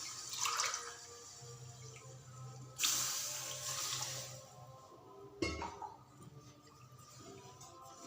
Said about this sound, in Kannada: ನಾನಿವಾಗ 1 ಕಪ್ ಅಕ್ಕಿ ತೊಗೊಂಡ್ರೆ 2 ಕಪ್ ನೀರು ಹಾಕ್ತಾಯಿದ್ದೀನಿ